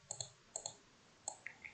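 Several soft computer mouse clicks in Paint 3D, arriving in small pairs and singles with pauses between them, quiet and close with no talk.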